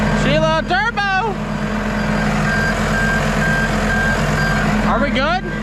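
A truck backing up with a steady engine rumble and evenly spaced reversing beeps, while voices shout and whoop over it at a building site.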